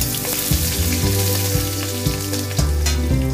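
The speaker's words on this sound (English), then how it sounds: "After the spices are done, add around 1 inch of ginger chopped, 10 to 12 garlic cloves." Chopped ginger and whole garlic cloves frying in hot oil with spices for Kashmiri dum aloo, a loud close sizzle with rhythmic stirring knocks of a spoon against the pan.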